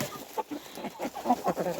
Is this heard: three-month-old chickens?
yes